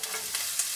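Beef for a beef-and-bean dish hits a hot frying pan with a steady, close sizzle and faint stirring crackle, brief and without talk.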